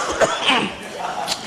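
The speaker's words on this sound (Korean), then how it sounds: "헛소리 하니까 기침 나오네" A man preaching at a church seminar coughs a few times in quick succession, short rough bursts close to the microphone, mixed with a little voice sound.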